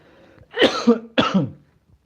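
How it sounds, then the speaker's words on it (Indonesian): Two harsh coughs close together, loud and near, with a short pause between them. "batuk gue"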